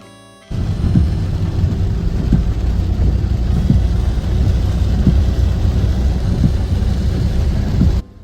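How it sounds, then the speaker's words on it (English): Steady broadband rain noise heard while driving near Porto, loud and constant, with a low rumble beneath, starting and stopping abruptly. "It began to rain again as we drove towards another vineyard."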